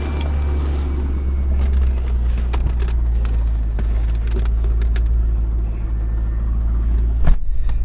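Steady, loud low rumble of a 1999 Chevrolet Corvette convertible's LS1 V8 idling close by, with a few light clicks and knocks over the continuous engine drone.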